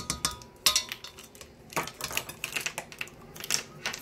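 Small clicks and scrapes of a metal teaspoon scooping and leveling baking powder for English scones, several quick light taps in an uneven rhythm, close and fairly quiet with no talking.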